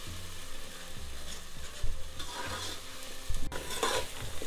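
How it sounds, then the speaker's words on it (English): Masala spices brown in a pan under a steady sizzle, with repeated scraping stirs of a spoon against the metal and a couple of sharper clinks toward the end. No one speaks. "And now you keep browning the masalas, which we call in India bhunjoing the masalas, for at least 10 minutes."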